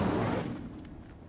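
Incendio fire spell effect in a video game, a loud fiery blast that starts at full strength and fades into a roaring, crackling tail within about a second.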